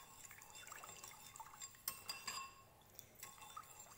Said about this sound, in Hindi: ये अब आपने थोड़ा सा इसको हिलाना है ताकि जितनी भी शुगर है वो इसके अंदर सारी डिज़ोल्व हो